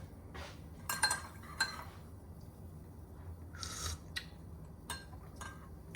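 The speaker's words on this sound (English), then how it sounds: "most of the stuff I'm about to put in the dishwasher" Dishes and cutlery clinking as they are loaded into a dishwasher, a few scattered clanks and a short scraping rattle, close by with no talking.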